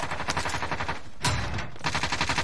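Rapid bursts of gunfire in a video game, moderately quiet and somewhat distant, with a sharper louder crack near the middle and the rattling shots resuming after.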